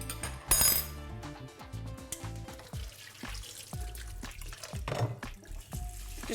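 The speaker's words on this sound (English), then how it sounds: "Just run them through with a little bit of cold water, just to stop them from cooking." Cold water runs over soaked glass noodles in a sieve, a steady splashing and trickling stream with small drips and faint clinks of metal throughout.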